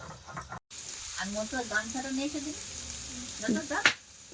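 Oil sizzles in a kadai (wok) where potatoes have been fried and a little sugar is about to go in. A steady hiss runs throughout while a voice talks over it.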